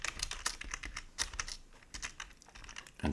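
Fingers tap out quick, irregular bursts of keystrokes on a computer keyboard close by, clicking steadily throughout with brief pauses and a slightly heavier press near the end.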